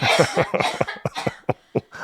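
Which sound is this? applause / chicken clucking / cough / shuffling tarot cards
cough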